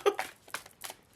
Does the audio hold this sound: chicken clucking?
no